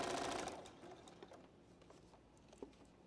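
A sewing machine stitches a quarter-inch seam on a quilt block, its fast rattling patter running briefly then fading into quiet clicks and handling noise, faint and close.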